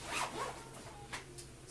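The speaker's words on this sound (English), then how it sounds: "And we're going to zip it up." A zipper on a safety bag holding a first aid kit is pulled shut, a few quick rasping strokes up close and quiet, with no talk.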